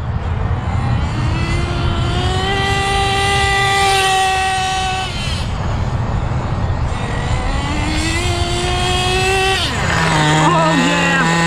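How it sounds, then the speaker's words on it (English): Nitro engine of an HPI WR8 rally RC car revving hard, a high, rising and falling whine in repeated bursts with a pitch drop near the end, loud and close throughout. "Gotta warm up that engine."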